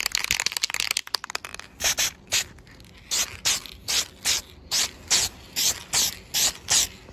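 An aerosol can lays the first coat of spray paint on an R2-D2 dome, giving about ten short hissing bursts in an even rhythm, with scraping handling noise at the start.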